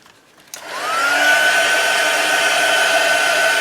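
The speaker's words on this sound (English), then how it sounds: "I'm just going to pop on my heat gun again and just dry off this ink" A heat gun drying ink on a junk journal tag switches on with a click and swells into a loud, steady blowing roar with a rising motor whine that holds evenly to the end.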